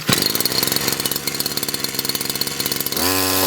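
A Dnipro-M petrol string trimmer, part of a combi multi-tool, firing up and running with a loud, rapid pulsing two-stroke putter, then settling into a smoother steady idle near the end.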